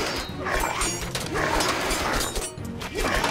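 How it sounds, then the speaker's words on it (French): Enemy night dogs in the Age of Mythology Retold video game, barking, yipping and whimpering in repeated bursts over loud, continuous battle noise and clatter. "On dirait des chiens de nuit d'ennemis."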